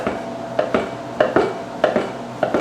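A knife chops einkorn biscuit dough into small cubes on a board, with a steady series of soft, evenly spaced knocks and light clatter, close and fairly quiet.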